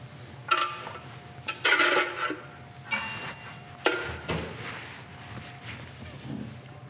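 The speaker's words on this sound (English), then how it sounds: "you're going to give it a little stir" A utensil stirs crème fraîche in a glass jar, giving a few soft scraping and clinking strokes at an irregular pace, close by and moderately quiet.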